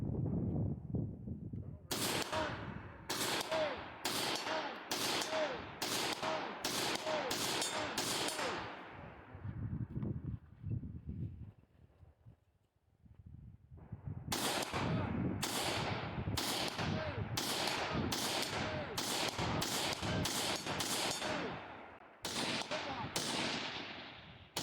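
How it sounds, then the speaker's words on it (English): Rifle shots on a long-range stage of a multigun competition, two loud strings of evenly spaced sharp reports outdoors with a lull of quieter movement between them. "All right, so this is the long-range rifle stage."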